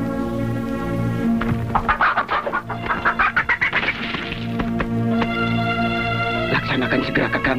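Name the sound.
chicken clucking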